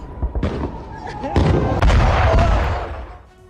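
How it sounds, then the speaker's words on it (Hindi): A series of heavy missile explosions booms and crackles, rising into a loud sustained rumble before fading, with voices shouting faintly underneath. "मिसाइलों के गिरने के बाद ही इस पूरे इलाके में धमाका होता है, जबरदस्त विस्फोट होता है"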